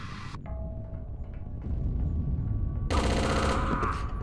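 Rapid automatic gunfire in the PC shooter Chaser, a dense burst at the start, then a lull with a faint tone, then another loud sustained volley near the end, with no talk.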